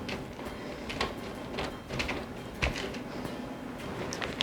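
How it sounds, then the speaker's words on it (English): Sharp cheddar cheese being grated by hand in a kitchen, with rhythmic rasping strokes scraping across the grater, moderately close and steady, with no talk over them. "we're gonna put about a cup of sharp cheddar cheese right into there. So I'm just gonna grate this up real quick"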